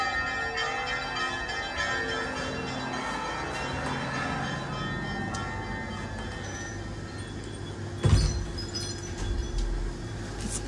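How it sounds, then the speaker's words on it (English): Church bells ringing in a Russian village during summer, faint and distant strikes under outdoor ambience, with a louder thump or knock partway through. "So the church bells are ringing"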